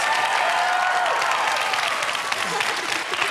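Studio audience applause for the panellists of a youth talk show, a full wash of clapping from the start that gradually thins, with a voice speaking over part of it.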